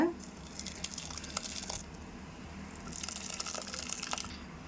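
Lemon-curdled milk for rasgulla chenna is poured through a strainer, giving close watery gushing and splashing in two surges with soft crinkling over a steady background hiss.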